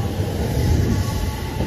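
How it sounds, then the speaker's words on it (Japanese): A JR West 220 series local electric train on the Sanyo Line runs at Kita-Nagase Station, giving a loud, steady, unbroken rail rumble. "北長瀬駅10時40分発普通列車山陽本線糸崎行き220系近郊型電車うららです。"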